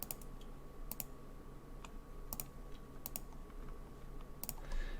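Mouse clicks select options on a computer, a few sharp isolated clicks spaced irregularly over a quiet steady room hum.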